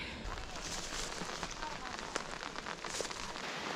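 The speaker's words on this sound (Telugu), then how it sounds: "మళ్ళీ వర్షం అయితే దిగిపోయిందండి చూడండి ఫుల్ వర్షము" Heavy rain pours down in a rural tribal village, a dense, steady hiss of drops beating on surfaces that fills the whole stretch with no break.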